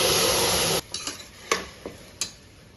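Ground paste hits hot oil with cardamom and bay leaf, a loud burst of sizzling for under a second, followed by several quick clinks and scrapes of a spoon stirring in the pan.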